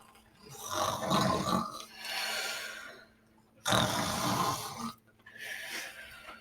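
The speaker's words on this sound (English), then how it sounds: "Their snoring made an awful racket, and the mother giant snored the loudest of all." Giants snore loudly in a radio drama sound effect: long, rough, rumbling breaths come in drawn-out bursts separated by brief pauses, close and prominent with no talk over them.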